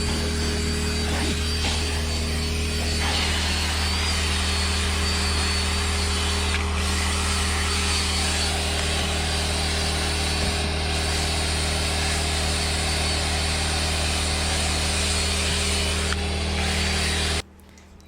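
A powered drill brush whirs steadily while scrubbing the interior of an 11-year-old car that has never been cleaned. The motor hum stays loud and continuous for nearly the whole stretch, then cuts off abruptly at the end.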